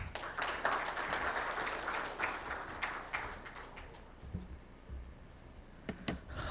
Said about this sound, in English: Please welcome Mr. Sumit Saxena, SMA and Mutual Fund Head, North RO BSE, with a big round of applause